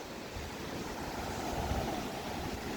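Steady rushing wash of sea waves on the beach at Prymorsk on the Odesa coast, a broad continuous roar mixed with some wind buffeting, with no voices.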